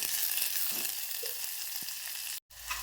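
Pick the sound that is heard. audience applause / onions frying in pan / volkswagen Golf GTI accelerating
onions frying in pan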